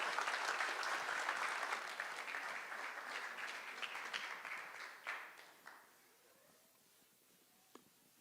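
An audience at a finalists' presentation event claps loudly and steadily, then the applause thins and fades to a few scattered claps and near quiet.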